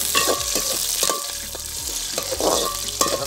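Cumin, curry leaves, shallots, and dried and green chillies fry in hot oil with a continuous close sizzle and crackle. Intermittent stirring clinks rise over it.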